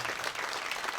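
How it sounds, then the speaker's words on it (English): A short burst of dense audience clapping fills the moment during a celebration of 50 years in country music, a steady wash of many hands with no pause. "Would you please help me with a big, huge round of applause?"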